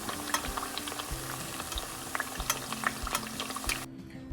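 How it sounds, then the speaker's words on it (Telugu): Sajja burelu, pearl millet sweet dumplings, deep frying in hot oil over a medium flame, a steady bubbling crackle with occasional soft knocks, running close and continuous until it cuts off abruptly near the end. "ముందు ఆయిల్ హీట్ అయిన తర్వాత ఇవి వేసేసి స్టవ్ని మీడియంలో పెట్టుకొని ఫ్రై చేసుకుంటే బాగా లోపల వరకు ఫ్రై అవుతుంది"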